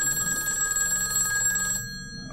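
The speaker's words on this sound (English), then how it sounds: "And the phone begins to ring." A telephone bell rings steadily for about two seconds, a bright trilling tone that then stops abruptly.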